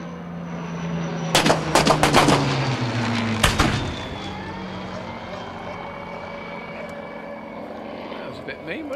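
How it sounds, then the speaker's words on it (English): A burst of rapid staged gunfire crackles at a radio-controlled model Spitfire flying past at an air show, followed by the plane's propeller drone fading overhead, with people talking throughout. "Hang on, they're shooting at the Spitfire."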